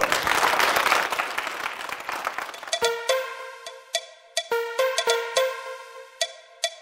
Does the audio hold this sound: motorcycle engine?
no